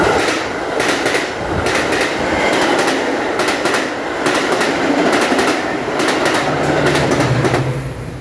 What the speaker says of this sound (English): Second non-stop METRA Train going to Chicago.